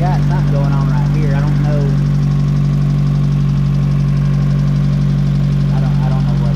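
A rough Honda S2000 engine idles with a loud, steady low hum and slight uneven knock throughout, while a person talks over it in the first seconds and again near the end.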